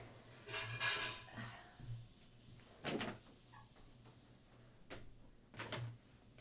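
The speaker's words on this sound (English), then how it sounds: "Let me close the door." An indoor household door bangs shut among several knocks and clatters, sharp thuds spaced a second or two apart over faint room hum, fairly quiet and without talk.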